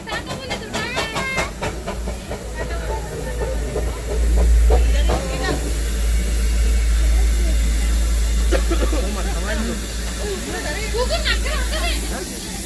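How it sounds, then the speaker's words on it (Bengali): The Darjeeling toy train, pulled by a steam engine, passes at Batasia Loop with loud hissing steam and a rumbling rail sound, while someone talks over it. "এ হচ্ছে দার্জিলিং টয় ট্রেনটা,"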